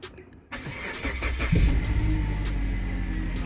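A Suzuki Grand Vitara with about 300k on it cranks with the key and catches, settling at once into a steady, close idle that rumbles loud and even to the end.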